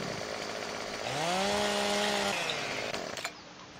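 A video game chainsaw rips through a tree on a farm, revving up into a loud, steady whine for over a second before cutting off, alone with no talk.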